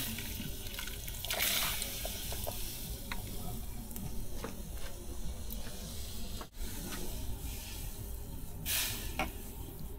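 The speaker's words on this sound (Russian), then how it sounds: "А теперь добавляем картофель. И я его добавлю вместе с водой" Potatoes and water pour into a pot of simmering fish soup, giving a steady watery splash and sizzle with faint stirring clinks, close and moderately loud, no talking.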